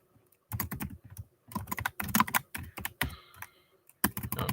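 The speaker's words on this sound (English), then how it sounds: "type something in here." Fast, close clicking of keys being typed on a computer keyboard in irregular bursts with short pauses, quiet and alone.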